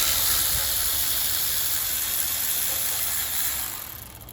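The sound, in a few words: ratchet removing valve cover bolts on 2010 Mitsubishi Galant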